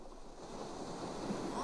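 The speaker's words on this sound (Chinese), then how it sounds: "我想听海浪的声音。" Ocean waves played through a smart speaker at bedtime, a steady soft whooshing wash of surf that swells gently, faint and continuous with no voices.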